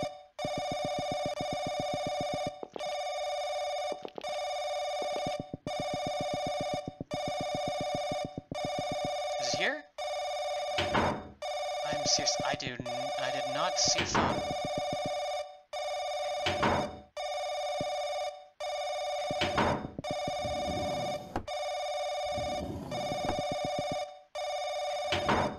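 Old-fashioned telephone bell ringing in the horror video game Paranoiac: loud, repeated ringing bursts with brief regular gaps, ongoing throughout, while someone talks over it at times.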